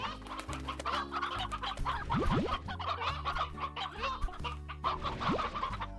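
Chickens cluck repeatedly in the video game Slime Rancher, busy overlapping fowl calls over a steady, layered game music bed.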